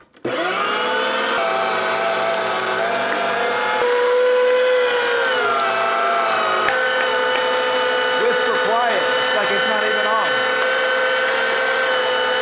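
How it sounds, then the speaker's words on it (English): A coarse-plate electric meat grinder runs steadily as meat is ground once for homemade sausage, a loud, close, continuous motor whine with a humming tone that wavers slightly throughout. "I'm going to use my coarse grinder today, which is going to be good, and I'm only going to run it through once."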